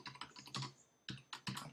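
Keys tap quickly on a computer keyboard as a password is entered, a close, quiet run of clicks in short bursts with a brief pause midway.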